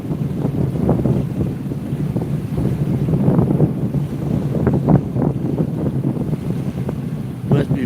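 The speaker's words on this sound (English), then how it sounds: "It's pretty dang windy." Strong wind gusting steadily across an open microphone outdoors at Haystack, a loud continuous roar with buffeting surges, no speech over it.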